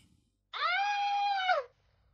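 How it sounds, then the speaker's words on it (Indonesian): A single sustained, high-pitched scream rings out in a horror story, lasting about a second before it cuts off into near silence. "Dengan diiringi suara teriakan dari Panggi."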